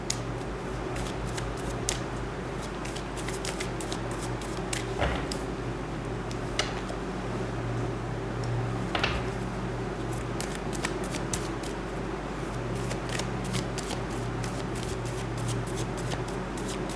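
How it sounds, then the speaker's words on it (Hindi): Tarot cards being shuffled and drawn: soft, rapid riffling and flicking of cards with small taps, faint and close over a low steady background hum, no talk. "पहले मैं कार्ड्स निकाल लेती हूँ"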